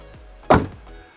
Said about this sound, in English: Self-closing bonnet, that was well timed.